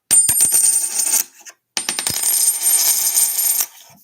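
Bright metallic clinking and jingling of coins rings out close up in two long bursts separated by a short pause.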